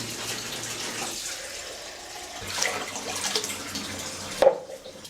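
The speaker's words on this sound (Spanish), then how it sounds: "lo primero que vamos a hacer es poner agua en la olla, agua fría" Cold water pours from a tap into a cooking pot, a soft, steady splashing stream with a few louder gurgles and a brief clink near the end.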